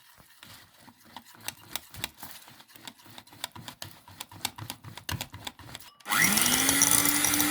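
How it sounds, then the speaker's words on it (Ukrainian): Egg white is beaten by hand for a fish batter, with rapid rhythmic clicks of a whisk against a bowl, close and steady, ending in a sudden loud continuous whir. "Вбиваємо білок. так, підбили білок 30 секунд."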